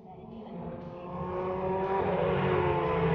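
A Nissan R92CP Group C race car at Fuji Speedway roars loudly, its engine note climbing steadily in pitch as it accelerates without a break.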